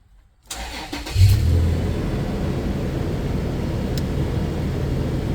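2013 Toyota FJ Cruiser engine starting from silence: a short cranking burst catches into a revving flare, then settles into a steady close idle.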